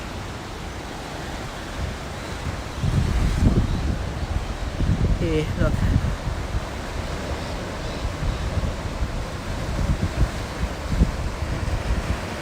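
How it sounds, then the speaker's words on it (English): Wild sea waves surge against the rocky Australian coast below a clifftop, a steady broadband roar of surf with gusts of wind buffeting the microphone, while a voice speaks briefly. "look at the wild sea beneath our feet"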